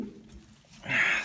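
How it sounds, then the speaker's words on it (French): A long-distance racing pigeon entering an aviary, with a soft low coo followed by a brief brighter fluttery burst near the end, close and fairly quiet. "c'est un pigeon de fond"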